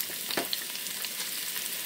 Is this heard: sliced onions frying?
yes